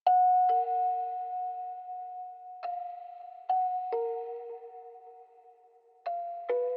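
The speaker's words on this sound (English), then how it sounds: "I added some bells just to fill in the high end a little bit" Bell tones layered into a hip-hop beat, struck on bass notes in sparse clean hits that ring out and decay, alone with no voices.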